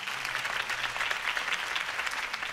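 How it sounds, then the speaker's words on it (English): A crowd in Batman: The Telltale Series video game claps in sustained, dense applause at a political campaign rally, steady and fairly loud throughout. "If only Mr. Wayne, my campaign's largest backer, could have heard that applause"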